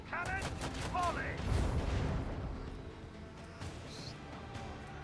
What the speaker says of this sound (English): Macro cannon, volley!